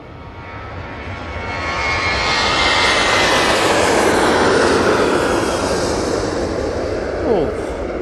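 A Boeing 737-800 jet on its takeoff roll at Manchester Airport builds from a lower rumble into a loud, sustained engine roar with a whining high edge, peaking midway and easing slightly, with speech faintly beneath.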